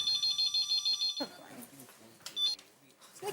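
A telephone rings with a rapid, repeating electronic trill in a comedy scene, then cuts off abruptly as people start talking.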